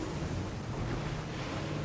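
Rushing water from a waterfall in the video game Fortnite, a steady, dense broadband roar that holds at an even level throughout with no voices.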